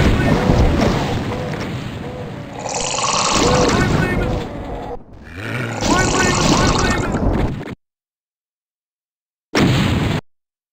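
Gunfire effects from an indie video game sound as dense bursts of booming, crackling blasts over several seconds, with a short pause and one final burst, mixed with voices talking.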